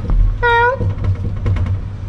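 A small cat stranded on the tenth floor of a building, during a fire-and-rescue service cat rescue, gives one clear, drawn-out meow nearby, followed by faint rustling and movement.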